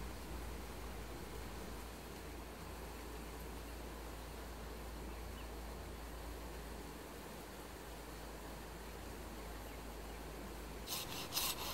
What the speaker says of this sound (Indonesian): Kemudian sama, masih saya potong menggunakan gergaji triplex.